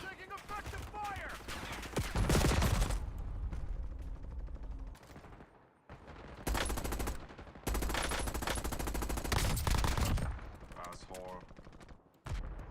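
Rapid automatic gunfire and bursts of shots in Call of Duty Warzone on the Verdansk map, loud and dense in long volleys with brief pauses between them, and a voice speaks briefly amid the shooting.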